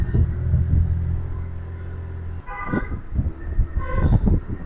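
City traffic in Bangalore, with a low rumbling engine drone followed by several short car horn toots, loud and close, and no voices heard.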